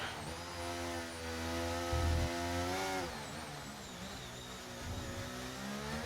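A McLaren racing car in a sim racing game, its engine a steady high-pitched whine that climbs through the gears, with a brief low rumble partway through. The note holds continuous and fairly loud from start to finish.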